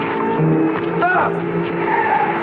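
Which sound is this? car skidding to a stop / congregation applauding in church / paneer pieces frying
car skidding to a stop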